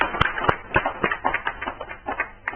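Audience clapping to welcome a guest at a gathering of poets, scattered distinct claps building into a moderate, uneven patter that continues throughout.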